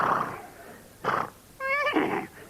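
A man imitates a horse whinnying, with a few breathy vocal bursts followed by a wavering neigh, loud and close, in a TV talk-show setting.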